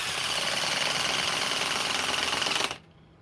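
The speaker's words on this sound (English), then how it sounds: "It'll be interesting to test out these hydraulic impact drivers in the wintertime when it's 0 degrees." A hydraulic impact driver runs at a steady, loud buzzing hammer for almost three seconds, then cuts off abruptly into near silence.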